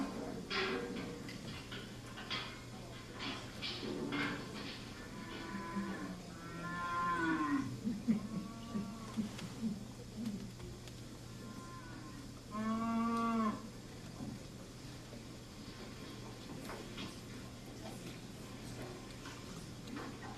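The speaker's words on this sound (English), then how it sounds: "let's feed the cow" Cattle on a dairy farm moo several times, with one long low moo midway and a fuller, louder call near the middle-end, over a quiet farm background with faint ticking.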